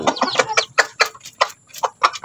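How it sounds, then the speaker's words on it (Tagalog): Rooster named Red calling chicks with a rapid series of short, sharp clucks and chirps in uneven bursts, close and clear, with no voices. "tinatawag sila ni Red"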